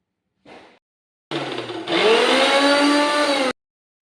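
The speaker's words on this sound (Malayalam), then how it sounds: "മിക്സിക്കകത്ത് ഇട്ട ഐറ്റംസ് എല്ലാം കൂടെ ഒരടി അടിക്കുക." Kitchen mixer grinder whirring loudly as it blends ingredients for Kerala raw mango chutney, a short burst first, then a sustained run of about two seconds that rises in pitch and cuts off abruptly.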